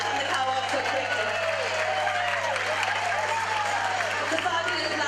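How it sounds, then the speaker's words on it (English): An audience applauds at a camogie club fashion show, a continuous steady wash of many hands clapping, with faint tonal sounds threaded through underneath. "I think you should give her a round of applause for being back in the co-op so quickly"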